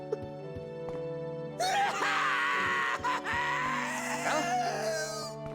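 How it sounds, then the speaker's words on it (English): A scream in the video game The Legend of Zelda: Skyward Sword rises loud and strained for several seconds over steady game music, breaking briefly before trailing off. "That is quite the scream right there."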